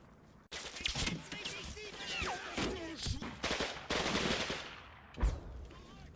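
Machine gun fire in the WWII wargame Combat Mission Battle for Normandy, with dense bursts of shots and battlefield noise running continuously through the scene alongside other combat sounds.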